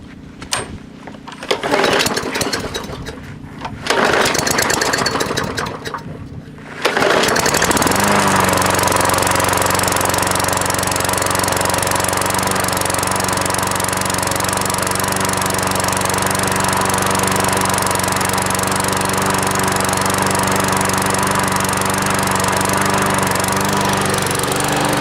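A freebie walk-behind lawn mower engine, air filter freshly cleaned, starts after a few rough pulls and bursts, then settles into a loud, steady, close-up running drone with no talking.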